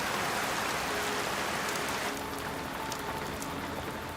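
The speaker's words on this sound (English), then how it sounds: "In the jungle, a full-on tropical storm has kicked in." Heavy tropical rain pours down in a jungle storm, a dense, loud, continuous hiss of rain on foliage and ground, steady throughout with no voices.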